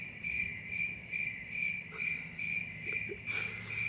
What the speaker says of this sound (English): I love my sound effects. Yeah, it was cricket